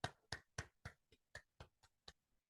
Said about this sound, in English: Clap for the meditation